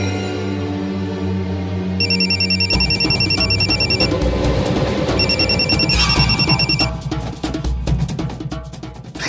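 A phone rings with a repeating electronic trill, bursts of bright tones coming in two groups over a steady musical background, in a Hindi TV drama scene.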